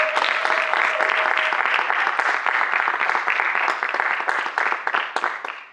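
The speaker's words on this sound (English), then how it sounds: "Give some applause to the directors for their incredible films" Film festival audience in Los Angeles applauds the directors, a full, close burst of many hands clapping at once that holds steady before thinning slightly toward the end.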